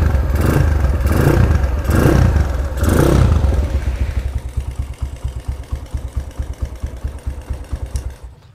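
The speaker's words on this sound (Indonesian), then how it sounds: "Ini knalpot dari Amogat, suaranya halus seperti ini." Motorcycle with an Amogat exhaust, up close, blipped through three or four quick throttle revs and then settling into a smooth, even idle pulse, with no one talking.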